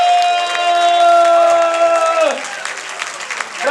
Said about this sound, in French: Maximum d'applaudissements pour elle.